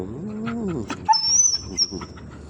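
A dog whimpers and gives a few short yips and barks at close range, brief bursts over a quiet household background.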